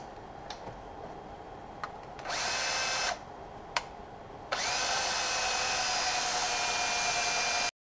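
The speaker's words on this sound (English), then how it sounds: "You attach it to a drill and you put this into the hole, and then you clean the seating." A power drill spins a cleaning brush inside an injector seating hole on a BMW N57D30 engine, giving two short bursts and then a longer steady whine, with small clicks between them.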